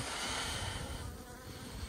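Honey bees buzzing around a wooden beehive on a damp midwinter day, a steady close droning hum that holds throughout with no talking.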